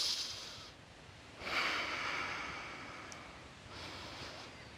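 Slow, deep breathing during a yoga flow, with two long airy breaths close to the microphone, the first louder, over a quiet background.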